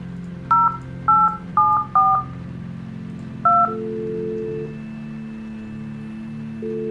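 Telephone keypad tones sound in the video game The Guest: five crisp dual-tone beeps, four in a quick run and one after a short pause, then a low steady line tone hums alone.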